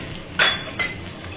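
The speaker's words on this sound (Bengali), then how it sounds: "বাটি ধুয়ে একটু জল দিয়ে দিচ্ছি।" A small bowl clinks sharply twice against the edge of a cooking pot as it is rinsed out and water is poured in, under quiet kitchen background.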